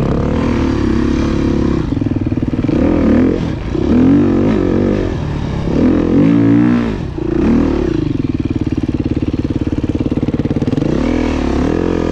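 A Kayo 250 T4 dirt bike riding at a gravel pit, its engine loud and close with a steady four-stroke drone, rising and falling with throttle revs and brief dips as it moves over the gravel.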